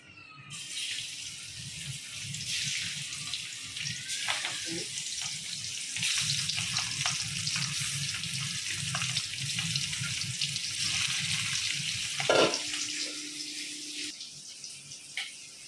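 Small hilsa fish sizzle in hot oil in a kadai, a steady, fairly loud crackling hiss that runs through the whole stretch with slight swells.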